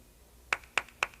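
Three crisp hand claps from one person, evenly spaced and close, following a short stretch of near silence.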